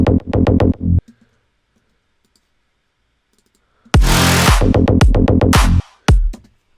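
Synth bass in an Ableton mid-tempo EDM track, punchy rhythmic pulses in a short burst, a pause, then a denser louder passage with noisy hits layered over the repeating bass notes.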